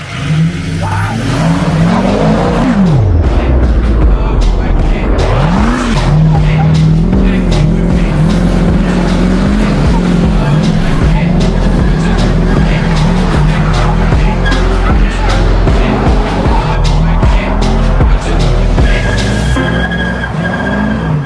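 A Ford 6.0 Powerstroke diesel truck drifts in snow, its loud engine revving and surging continuously with tire spin and skidding throughout, plus turbo flutter sounds and some voices.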